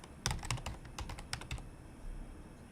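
Keys on a computer keyboard tap in a quick, uneven burst of clicks, close and quiet, trailing off into a few scattered strokes before stopping.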